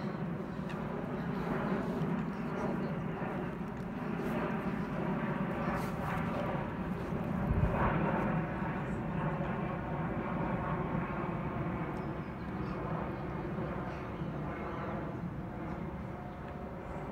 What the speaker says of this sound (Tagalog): And then, makakapanood pa tayo ng mga eroplano.